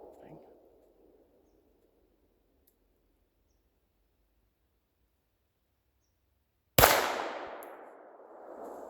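A Gforce Chronicle 1911 pistol in 9mm fires a single loud, sharp shot at a target outdoors after a long near-silent pause. The report trails off in a short decaying echo.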